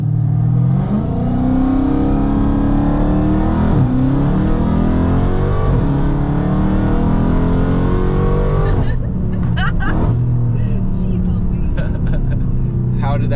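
A Dodge Hellcat roars through a launch-mode start from inside the cabin, its engine rising steadily in pitch as the tires spin. The sound stays loud and continuous, with people talking over it.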